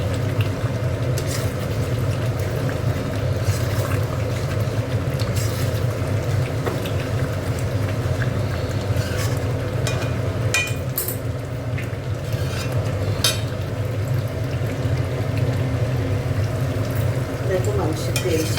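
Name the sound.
sautéing chicken meat in a pan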